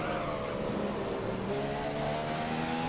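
A race car in a racing video game accelerates at full power, its engine note rising steadily and loudly through the gears with a continuous harmonic whine and no talk.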